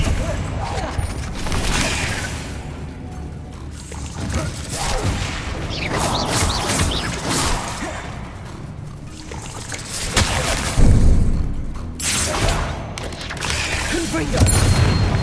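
Spell combat in Hogwarts Legacy, with repeated Bombarda blasts: booming explosive bursts and crackling debris, loud and close, recurring in waves over a continuous game soundscape with music.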